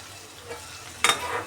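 A pan of eggplant curry is stirred after slow cooking, a soft low sizzle under one brief scraping clatter of the spoon near the end.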